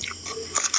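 Someone eating raw onion and tomato with salt, close-up crunchy chewing and biting, a few soft mouth sounds followed by sharper crisp bites near the end, no talking.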